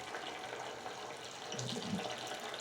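Hot water runs faintly and steadily into a clogged drain, a low continuous splashing with a slight gurgle near the end.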